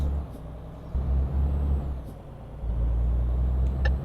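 A heavy truck engine in Euro Truck Simulator 2 idles with a steady low rumble throughout, and a brief air-brake hiss comes near the end.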